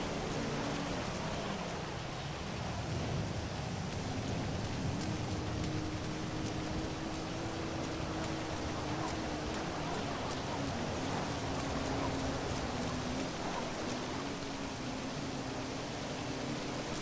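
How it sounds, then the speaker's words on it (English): Rain falls in GTA Online, a steady dense hiss with no break, moderately loud and even over the whole stretch, with a faint low hum beneath. "Six minutes till the rain is over"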